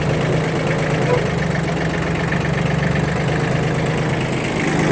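A Kubota B1502 mini tractor fitted with a rotary tiller idles steadily nearby, a continuous even diesel rumble with a faint rhythmic knock and no breaks.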